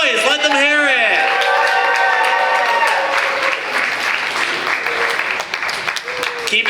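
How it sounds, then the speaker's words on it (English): Audience at a talent show in a brewery bursts into loud, sustained applause and clapping with cheers and whoops, steady for several seconds before thinning slightly toward the end. "Keep it clapping. I want to hear a clap all the way to the stage."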